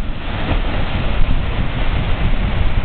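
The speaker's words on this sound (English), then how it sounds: "As the waves float back up under these shelves, there's actually a beach under there." Ocean waves surge and wash back under rock shelves along a rocky coast with a hidden beach and blowhole, a loud, continuous broadband roar of churning surf with wind buffeting the microphone throughout.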